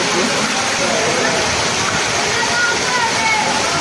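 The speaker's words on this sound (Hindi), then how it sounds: "तो ये देखिए हमारी गली में पानी कितना आ गया है।" Rainwater rushes steadily through a flooded residential street, a constant broadband wash of flowing water with no clear pauses, recorded close.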